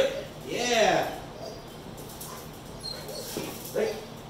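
A dog plays during marker training, giving a couple of high whimpering yips close by, with short pauses between them and a person talking around the sounds.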